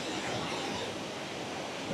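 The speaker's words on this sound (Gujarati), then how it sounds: "મસ્ત પાણી પડી રહ્યું છે નીચે" Water tumbles down a waterfall, a broad, steady rushing roar that fills the whole moment without pause or voices.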